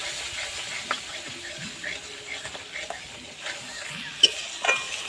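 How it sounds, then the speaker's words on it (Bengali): A spice paste with salted, whisked sour yogurt is stir-fried in a pan for a Bengali mixed vegetable dish, with soft steady sizzling and scattered light scrapes and clinks of the stirring spoon, fairly quiet and close. "টক দই দেওয়ার পরে মশলার সাথে ভালো করে কষিয়ে নেব।"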